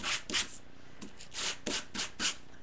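Core'dinations cardstock being rubbed with a fine-grit sanding tool: close, quiet rhythmic scratchy strokes, about seven passes in a steady back-and-forth rhythm, with no talking.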